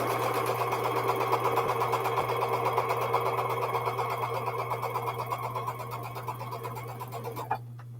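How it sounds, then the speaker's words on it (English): A sewing machine runs fast and steady, stitching gold and floral quilt pieces together, its rapid mechanical whirr close and continuous before stopping abruptly near the end. "next we're going to sew our gold and floral pieces,"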